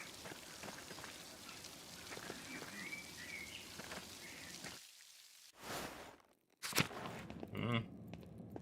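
Rain falls steadily in Pentiment as a soft, hissing patter for about five seconds, then stops, followed by a few brief louder bursts of sound.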